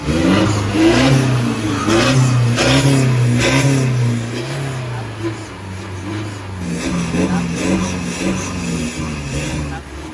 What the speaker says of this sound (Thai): อันนี้เปิดก่อนนะครับ ผมเบิ้ลเลยครับ